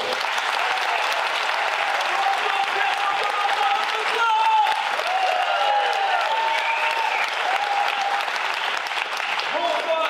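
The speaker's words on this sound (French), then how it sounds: "Je vous invite à acclamer Lilian Wagner." An audience greets the magician Lilian Wagner with sustained, loud applause and cheering that fills the room steadily for about ten seconds, with scattered whoops over the clapping.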